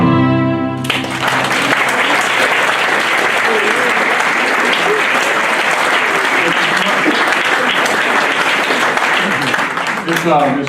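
Audience applause bursts out right after a live acoustic song by a bluegrass trio, loud, dense clapping sustained for about ten seconds as the last guitar note fades at the start.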